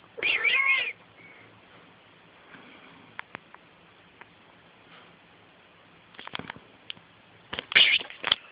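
A cat meows loudly and close at the start, then near-silence with faint ticks and patters, and more short meow-like calls and rustling near the end.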